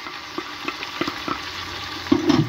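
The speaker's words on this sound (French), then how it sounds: "Et je laisse mijoter aussi" A kebab sauce of oil and chopped ingredients simmers in a pot, giving soft irregular bubbling and light sizzling pops, close and fairly quiet, with a few slightly louder bursts near the end.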